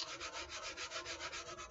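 White putty on a foam surfboard repair is sanded by hand, giving a close, rhythmic scrubbing rasp in quick, even back-and-forth strokes that continue steadily with no talking.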